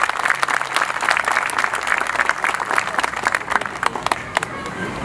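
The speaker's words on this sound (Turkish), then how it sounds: "Siz de onlara kocaman bir alkış gönderin." A crowd at a municipal gathering in Bayraklı applauds council staff, dense sustained clapping with scattered cheers, loud and continuous throughout.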